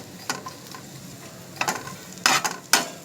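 Onion and grated coconut masala roasts in a pan for a village-style chicken curry, a soft steady sizzle broken by several sharp scraping stirs of a spatula, close and alone.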